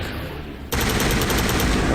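Sustained rapid automatic gunfire from the Mass Effect 1 Legendary Edition video game, loud and continuous, bursting in abruptly after a brief quieter stretch of background game noise.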